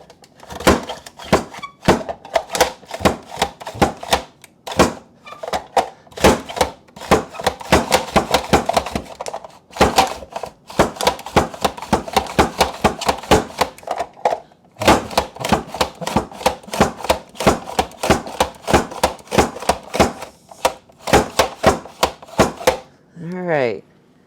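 Knife slicing through pears, a rapid run of sharp close clicks and thunks against a cutting board, coming in dense bursts with brief pauses between them and a short whistle-like sweep at the very end.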